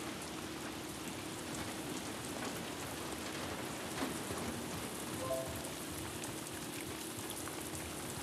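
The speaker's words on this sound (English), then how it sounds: "Let's get out of the rain." Rain falls steadily in The Last of Us Part 2, an even hiss of drops pattering on surfaces with a low ambient hum beneath, soft and unbroken throughout.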